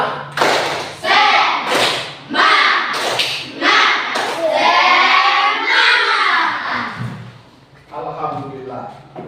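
A classroom of students claps a rhythmic spirit routine (tepuk semangat): sharp, evenly spaced group claps and thumps mixed with loud chanting voices, followed by a brief quieter stretch.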